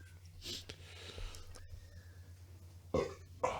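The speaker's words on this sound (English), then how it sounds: "I almost burped right into the mic" A single close burp right at the microphone, followed by a second short throaty burst near the end, with no talking in between.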